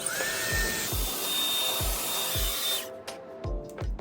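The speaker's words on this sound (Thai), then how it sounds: "เดี๋ยวเรามาเป่าผมก่อนดีกว่า" A hair dryer blows on fine hair with a steady whooshing roar, a faint high whine and soft rhythmic thumps, then cuts off abruptly near the end, leaving scattered handling noises.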